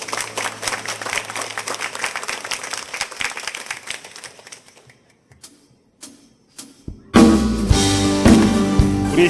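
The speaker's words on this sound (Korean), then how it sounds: "영광의 박수 올려드리겠습니다." A congregation applauds during a Sunday worship service, with dense clapping that thins out and pauses briefly before a loud musical swell returns with more crowd sound.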